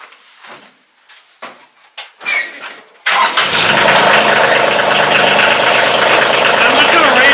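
After a few quiet knocks and shuffles, a Kioti CK2610 tractor engine turns over and catches, settling into a loud, steady, rumbling idle close by.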